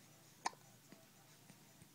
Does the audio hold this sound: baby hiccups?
yes